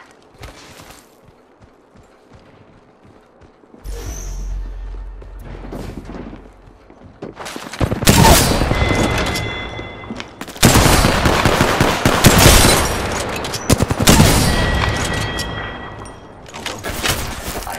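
Gunfire in the video game Apex Legends: loud bursts of rapid automatic shots come in dense clusters after a quiet opening, with sharp single cracks and game effects between them.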